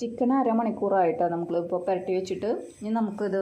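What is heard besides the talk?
No everyday noise stands out behind the speech.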